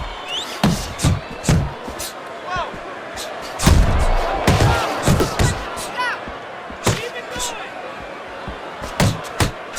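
Punches land in the Fight Night boxing video game during round five, a quick series of sharp slams and thuds in bursts, with an excited commentator's voice running over them.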